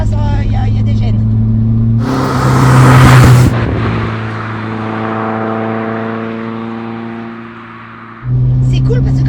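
A BMW E21 engine hums steadily while driving, surging into a loud rev with a rising whine that sweeps upward before settling back to a low drone; people talk over the engine throughout.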